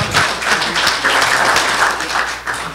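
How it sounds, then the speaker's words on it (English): A crowd applauding steadily and fairly loudly at a city council meeting, a dense wash of many hands clapping that holds throughout without talking. "So give yourselves a round of applause because the turnout tonight is fabulous."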